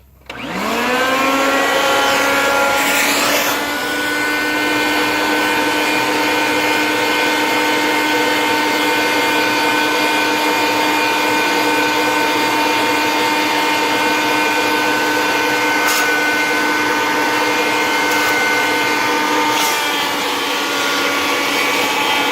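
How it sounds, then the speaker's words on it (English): A vacuum cleaner runs steadily while cleaning a car interior, a loud continuous motor whine with strong tonal hum that starts abruptly, holds nearly unchanged throughout, and shifts slightly as the nozzle moves. "Then I'm going to take a vacuum and vacuum it and see if it comes up."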